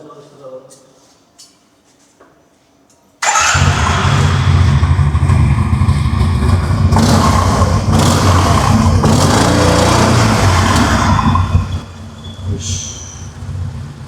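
A Yamaha T-MAX DX 530 ABS scooter engine starts abruptly after a quiet moment and runs loud and close at a steady idle with a dense low rumble, easing off slightly near the end.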